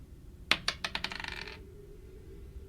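A handful of Dungeons and Dragons dice clatter onto a hard surface with a sharp first hit, then bounce and rattle in quickening small clicks for about a second before settling, close and clear over faint room hiss.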